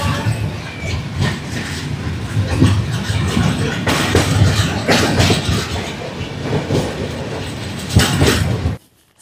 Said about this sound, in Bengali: কতদিন পর নিজের এলাকার লোকাল ট্রেন দেখছি।